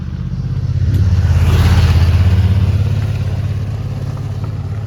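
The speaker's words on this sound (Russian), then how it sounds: "Ой-ой-ой-ой, спортивный едет мотоциклист." A sport motorcycle passes close by on a town street, its engine note swelling to a loud peak and then fading steadily as it moves away.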